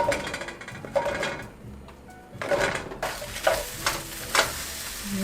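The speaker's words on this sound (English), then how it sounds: "I'm dry sauteing the mushrooms" Mushrooms dry sautéed in a pan with no oil, stirred as they sizzle: close scraping and stirring strokes with a few utensil clacks over a steady soft frying hiss.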